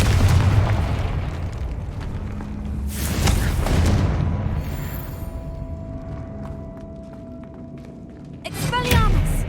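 A Confringo fire spell bursts in a Hogwarts Legacy catacomb fight, giving heavy booming thuds and crackling blasts, with spoken voices around them and a fresh impact near the end.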